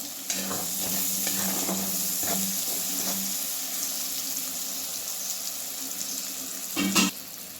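Tomato masala frying in a pan while being mixed, a continuous close sizzle with several scraping stirs early on and a louder clatter near the end, no voices.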